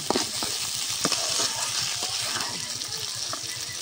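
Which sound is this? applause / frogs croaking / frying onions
frying onions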